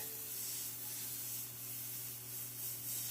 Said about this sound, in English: We can test that and see if we're getting a nice spray.